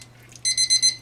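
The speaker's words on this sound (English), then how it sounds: "That timer just went off." A kitchen timer goes off while rice cooks for sausage jambalaya, giving three loud, shrill electronic beeps in quick succession after a moment of near silence.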